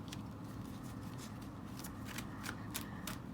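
Tarot cards are shuffled close by in a quiet room, giving a soft, continuous papery riffle with a few sharper flicks near the end, without any talk.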